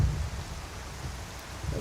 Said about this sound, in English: Good, it's dark and stormy.